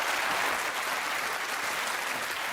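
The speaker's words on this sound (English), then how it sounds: "Applause!" Studio audience applause on a science show after a demonstration with charged polystyrene balls, dense even clapping filling the whole stretch, loud and close with no speech.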